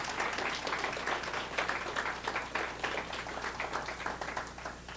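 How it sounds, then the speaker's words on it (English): An audience at a school district spelling bee claps steadily for the families, a dense, even wash of applause from a crowd in a hall that runs throughout. "So a round of applause for all of our families."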